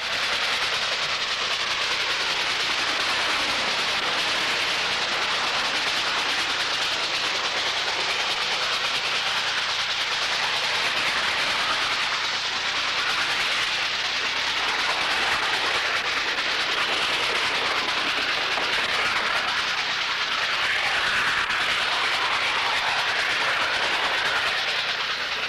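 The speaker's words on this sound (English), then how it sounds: "Here the train has to climb the steepest grade on the Metropolitan Division" Chessie steam locomotive hauling a train up the steepest grade on the Metropolitan Division, a steady loud wash of rolling rail noise, hiss and clatter that keeps on without a break.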